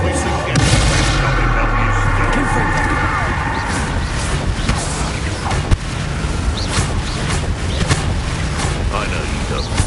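Bombarda explosive spell blasts in Hogwarts Legacy boom amid continuous loud combat noise, with repeated sharp impacts and rumbling, while a voice speaks over the chaos.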